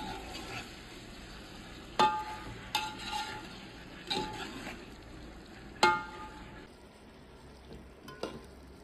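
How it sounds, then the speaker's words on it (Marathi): Thick black masala paste stirred in a pan of hot oil tempering, a steady low sizzle broken by several sharp scrapes and clinks of a spoon against the pan, close and without talk. "तयार केलेलं काळं वाटण आहे तो या फोडणीमध्ये टाकून घ्यायचा आहे आणि वाटणाला जोपर्यंत तेल सुटत नाही तोपर्यंत"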